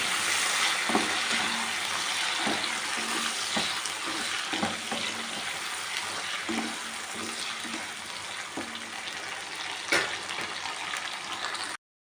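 Fish curry, chapala pulusu with curry leaves, bubbling and sizzling in a pot, a steady close simmer with soft repeated pops and bursts throughout, no voices, ending abruptly.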